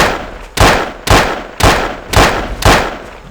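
Gunfire in the game Trespasser: six loud, sharp shots fire at a steady pace about half a second apart, each with a short decaying tail and no talk.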